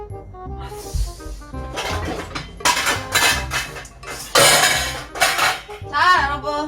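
Knife cutting canned sea snails and dishes clattering in a home kitchen, a busy run of sharp clinks and scraping knocks at close range, with no talk.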